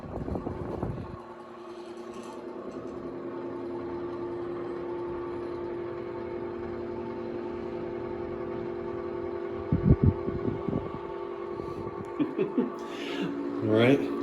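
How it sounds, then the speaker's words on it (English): A 1930s Art Deco electric fan with glass shades runs with a steady low hum and a slight rattle, close and fairly quiet, with a few brief knocks and handling noises toward the end. "it's a pretty quiet sounding fan. Listen to that."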